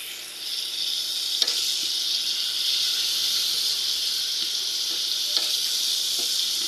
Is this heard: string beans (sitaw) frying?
yes